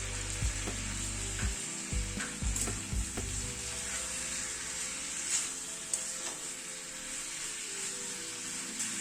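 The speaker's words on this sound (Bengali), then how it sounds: "গ্যাসের ফ্লেমটাকে মিডিয়ামে রেখে টমেটোটা একটুখানি কষিয়ে নেব" Tomato paste sizzles steadily in a pan over a medium gas flame with ground spices, a continuous broadband frying hiss broken by a few sharp clicks and scrapes of stirring.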